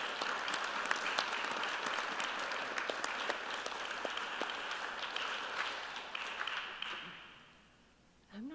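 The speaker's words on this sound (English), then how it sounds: "let's please give a big applause to our wonderful panel here" An audience at a photojournalism panel discussion applauds in a sustained, moderately distant wave of clapping that fades out, followed by a voice starting to speak.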